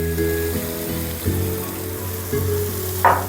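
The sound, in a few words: tomato fry sizzling and being stirred in a pan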